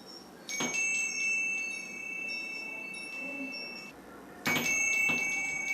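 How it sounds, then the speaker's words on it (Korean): A metal wind bell at an owl museum in Sokcho rings with clear, sustained tones, struck sharply twice and left to resonate between strikes. "청아한 풍경 소리에 귀를 기울여 보는 건 또 하나의 즐거움."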